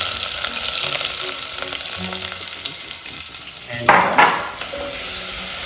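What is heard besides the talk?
onion frying with bay leaves, stirred in a pan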